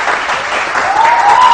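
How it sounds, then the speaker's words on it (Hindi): Studio audience at a Pakistani morning TV show applauds steadily, a dense even wash of clapping at close range with a faint musical tone rising beneath it toward the end. "बहुत सारी तालियां वसी के लिए।"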